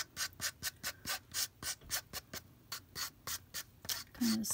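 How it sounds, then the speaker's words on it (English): Quick back-and-forth strokes of sandpaper rub the edges of a Dollar Tree craft name plate, about two dozen close, crisp rasps in a steady rhythm. "kind of sand your edges"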